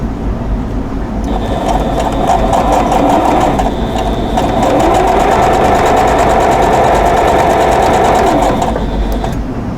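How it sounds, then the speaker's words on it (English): Sewing machine stitching a quarter-inch seam on a quilt block, a fast, steady mechanical whir and ratcheting tick that starts after a second and stops near the end, loud and close with no talk. "So now I'm going to go ahead and sew these together."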